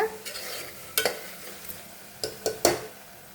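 Curry masala being stirred and fried in a pan for a country chicken curry, with a steady soft sizzle under several sharp scraping stirs of the spoon against the pan.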